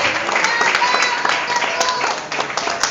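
A church congregation applauding, a dense burst of clapping that fills the space, with voices mixed in under it.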